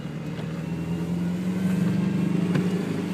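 A car climbing a snowy hill under hard throttle, the engine's low steady drone rising slightly as it pulls, heard up close from inside with faint clicks and no talking.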